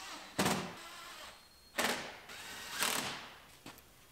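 Screws are driven into molding clips on a 2016 GMC Terrain Denali with a power drill, giving four short whirring bursts separated by pauses, close and moderately loud.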